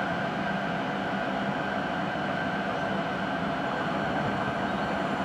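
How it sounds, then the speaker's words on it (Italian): An SBB Giruno train rumbles steadily through Camnago station at close range, a continuous loud roar of rolling wheels and rail noise without any break. "treno in transito al binario 2"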